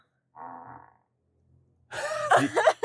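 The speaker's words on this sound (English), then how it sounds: "This is a fart." A fart sound effect set as the lock sound of an XPeng electric car: a short muffled blurt, a brief pause, then a louder raspy, sputtering burst up close.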